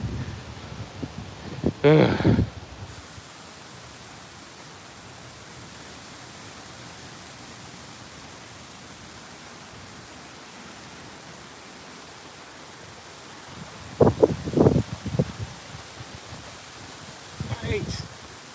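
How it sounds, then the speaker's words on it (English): Steady broadband wind noise rushing across the microphone throughout, with brief louder bursts of handling or movement and a short grunt near the start and end. "Ooh, it is getting windy as all can be."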